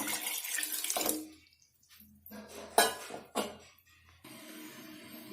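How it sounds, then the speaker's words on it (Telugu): Water is poured into a pot of drumstick sambar in short splashing bursts, with a few light clinks of a utensil and quiet pauses in between. "మన చిక్కదనం చూసి నీళ్ళు పోసుకోండి."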